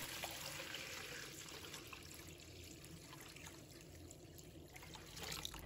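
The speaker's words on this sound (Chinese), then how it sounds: "倒入清水" Clean water poured into a basin of long beans, a soft steady trickle and splash running continuously at moderate level, close by, with no talk.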